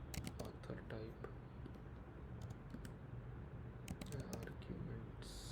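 Quick bursts of typing on a computer keyboard during code entry, crisp clustered keystrokes up close with pauses between, over a steady low hum.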